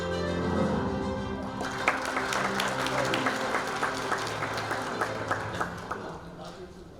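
At a ceremony for an electrical industry day, a seated audience breaks into warm, sustained applause to welcome the chairman, following a brief voice at the start; the clapping continues steadily and slowly fades.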